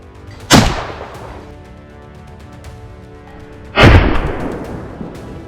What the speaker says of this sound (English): a sharp gunshot echoed across the hillside